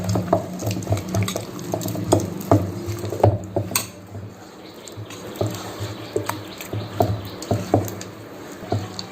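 Wheat flour batter for adai being mixed with water in a bowl, close up: repeated wet stirring and squelching strokes with small drips and occasional knocks against the vessel.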